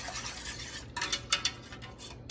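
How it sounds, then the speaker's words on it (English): A metal whisk stirs poutine gravy in a pot, making faint, quick scraping and tapping strokes against the pot that grow a little busier midway, with no talking. "I think we might need a whisk to get this guy started."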